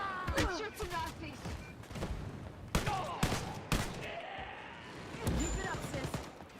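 Gunfire in the Wolfenstein: Youngblood video game as players shoot Nazis, several sharp shots and short bursts spread across the moment, mixed with game effects and talk.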